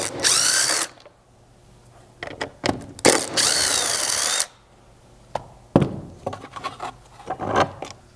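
Power drill bursts with ratcheting whine as T30 Torx fasteners are backed out of a Ford Bronco spare tire mount during a rear bumper install; several loud runs of varying length separated by short pauses and small clicks.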